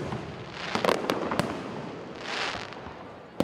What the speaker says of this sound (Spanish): el cielo también se ha iluminado con el castillo de fuegos artificiales.